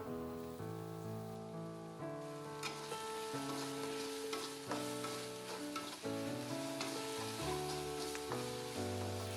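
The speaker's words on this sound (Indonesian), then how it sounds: "Tumis bumbu halus sampai harum" Ground spice paste sizzles steadily as it is sautéed in a pan, a soft, continuous crackle sitting beneath prominent background music.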